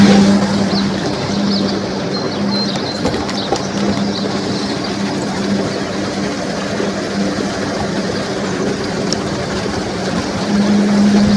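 A pump on a solar-powered DIY koi pond system drones with a steady low mechanical hum as it pumps the pond out, constant and close throughout with faint higher clicks.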